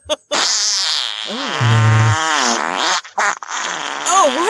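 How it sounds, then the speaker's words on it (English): A long cartoon fart sound effect, loud and wavering with buzzy low flutters and pitch wobbles, stretched over several seconds with short gaps and bending tones near the end. "That's a Wendy Wildhog fart."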